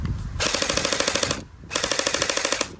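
An Anstoy M4A1 gen 8 airsoft rifle firing two full-auto bursts, each a rapid even rattle of about a second with a short pause between, close and loud with no talk.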